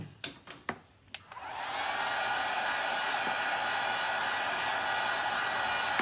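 A hair dryer drying a freshly made craft flower for a spring Easter door hanger, starting after a few sharp clicks and knocks, then blowing with a loud steady whoosh that holds evenly to the end.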